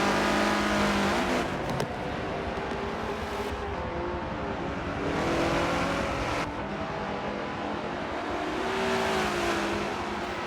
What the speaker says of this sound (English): we're going to follow along with Sinster as he's being hounded by the very fast race 1 winner, JSR Sterilizer.